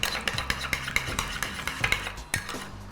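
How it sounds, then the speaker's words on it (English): An egg yolk whisked roughly in a bowl gives quick, close clinking strokes of utensil against the bowl in an uneven rhythm, with no talking. "I'm going to put the egg yolk now. I just need the yolk. Just whisk that in very roughly."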